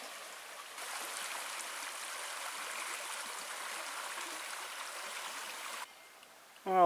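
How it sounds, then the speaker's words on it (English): Steady rushing flow of river rapids beside the Lowney Creek backcountry campsite at Pictured Rocks, a constant broadband wash that holds for several seconds, then cuts out near the end as a brief rising tone enters. "on the other side, you hear some rapids"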